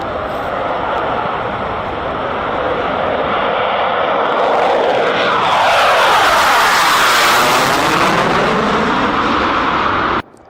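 A Tejas light combat fighter jet roars loudly overhead, its broad engine noise swelling and sweeping in pitch as it passes, then cutting off abruptly near the end.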